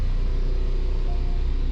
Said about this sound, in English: the car sounds incredible